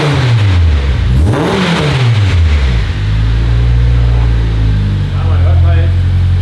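Turbocharged 2.4-litre six-cylinder Honda race car engine revving hard, pitch sweeping up and down loudly before settling into a steady, throbbing rumble, with people talking over it.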